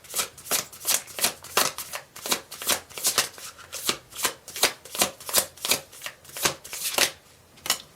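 Tarot cards being shuffled in a steady, rapid rhythm of crisp riffling bursts, close and clear with no talking, running continuously for several seconds.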